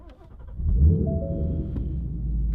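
Ford Mustang GT with a Borla S-Type exhaust starting up, heard with the windows up: a short crank, then a deep rumbling idle that flares briefly and settles into a steady low drone.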